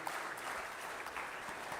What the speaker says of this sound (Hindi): जोरदार तालियां इनके अनूठे प्रयास के लिए।